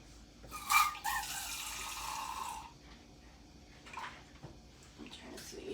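Water runs from a kitchen tap into a measuring cup in a brief burst near the start, followed by quieter handling noises and soft background sounds.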